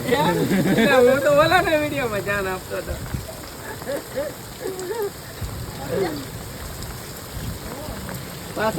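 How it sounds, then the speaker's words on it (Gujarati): A heavy downpour hisses steadily as someone speaks loudly at first, then continues talking more quietly while the rain keeps falling around him. "તમે જોઈ છો કેટલો વરસાદ પડે છે"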